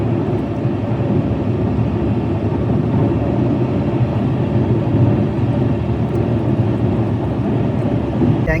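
An Alto K10 car climbs a hill in fifth gear at about 80, its engine and road noise forming a loud, steady drone that holds throughout with no voices.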